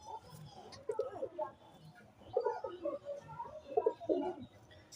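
Pigeons, including two newly bought birds, coo softly in a few rounded bursts at close range, quiet and unhurried, over low background noise.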